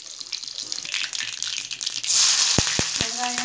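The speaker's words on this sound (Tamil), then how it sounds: "ஒரு கடாயை வச்சுட்டு தேவையான அளவுக்கு எண்ணெய் ஊற்றிக்கலாம்" Mustard seeds crackle and sizzle in hot oil in a kadai, a steady frying hiss that swells after about two seconds, with a few dull knocks of the pan beneath it.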